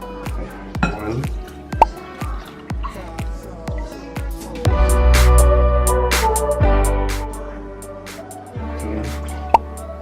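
Regular milk is poured into condensed milk for flan, starting as a series of quick dripping plops that turn into a steady liquid gurgle and pour, ending with a small clink.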